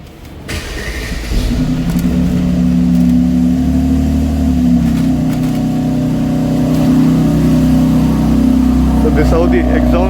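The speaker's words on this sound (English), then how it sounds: "So this is how the exhaust sounds, really loud." A Mercedes-AMG GLC 43 Coupe 4MATIC fires up, and its loud exhaust settles into a deep, sustained engine drone with some revving swells. A voice speaks briefly over it.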